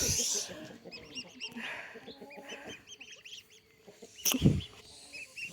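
Several geese and a gander honk and cackle in short bursts over a busy farmyard background, with a sharp louder squawk near the end.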